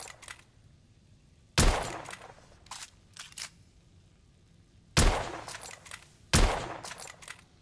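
Loud single gunshots from the video game The Order, three sharp blasts spaced seconds apart, each followed by a short metallic reload click.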